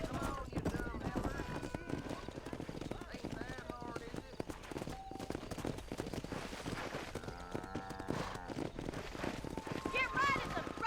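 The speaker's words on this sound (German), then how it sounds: "Stay behind them, Mr. Marston. Herd the cows down the road" Hooves clip-clop steadily as a horse rides while herding cows down a road in the video game Red Dead Redemption, with cattle, music and character voices talking over them throughout.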